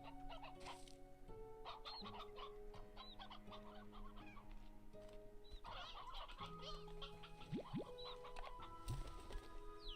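A roostro, the rooster creature in the ranching game Slime Rancher, crowing and clucking amid other fowl calls, repeated bursts over a steady game backdrop with no talk.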